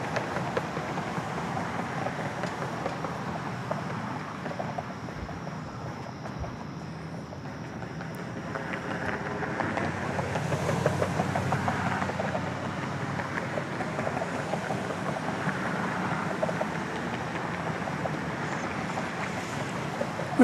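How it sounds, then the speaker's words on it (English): An Embraer Phenom 300 business jet departs Dallas Love Field, a broad steady roar with wind noise that swells around the middle of the stretch and holds at a moderate, distant level, with no talking. "We have another Embraer Phenom 300. This one off to Gunnison, Colorado."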